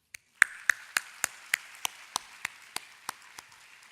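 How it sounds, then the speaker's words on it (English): A graduation ceremony audience applauds in a large hall, heard as roughly a dozen sharp, evenly spaced claps that start together and thin out quickly. No one speaks. "Graduates, please give them a big round of applause"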